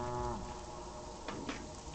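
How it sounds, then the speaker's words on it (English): A cow moos in the Pathologic 2 game world, a low drawn-out call heard at moderate distance over a steady ambient background, with a couple of brief brighter sounds near the end. "I hear a cow mooing"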